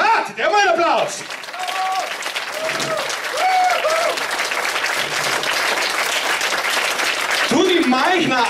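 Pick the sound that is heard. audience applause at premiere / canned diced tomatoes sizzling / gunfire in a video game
audience applause at premiere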